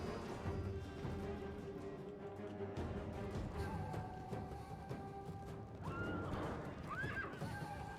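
Horses of the Horse Guards cavalry whinny repeatedly in a medieval war video game, several rising neighs standing out clearly over a busy, steady battle din.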